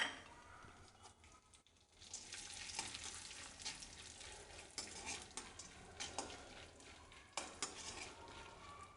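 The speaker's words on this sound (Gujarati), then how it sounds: "અને એ જ ઘીમાં આપણે બદામ પણ સાંતળી લેશું।" Almond pieces, 25 to 30 cut into bits, sautéing in ghee: a quiet crackling sizzle with repeated stirring and clinks of a spoon against the pan.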